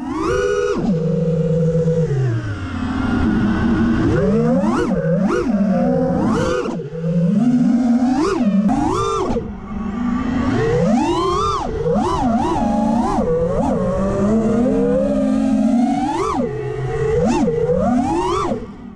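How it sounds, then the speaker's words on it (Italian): Whining quadcopter drone motors and propellers, comparing props-in and props-out rotation, pitch rising and falling in repeated swoops as the throttle changes, loud and close. "ha un suono dei motori completamente differente mettiamoli a paragone il suono del props in con il suono dei props out"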